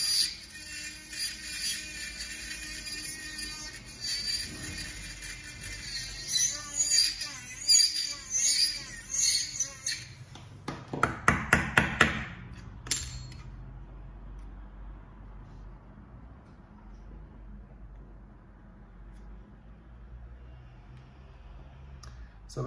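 Scraping on a stone setter's graver during sharpening, a run of dense, rapid scratchy strokes and clicks that builds to a brief louder burst before trailing off into quiet.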